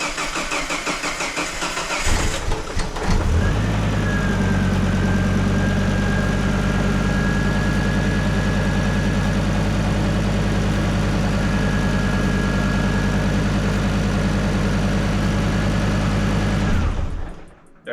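A Mazda Miata swapped to a five-cylinder engine cranks and catches after a couple of seconds, then settles into a loud, steady, close idle that runs unbroken before cutting off at the end.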